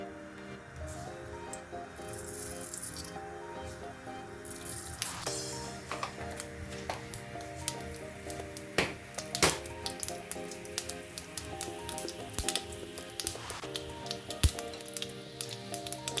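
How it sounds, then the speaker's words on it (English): Quick crackling pops and spits of mustard seeds frying in hot oil, scattered and irregular over a steady background hiss, fairly close. "Once the oil is heated, add some mustard seeds,"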